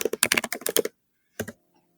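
Quick bursts of computer keyboard typing, a rapid cluster of close, crisp keystrokes followed by a pause and one more short burst, with no talk.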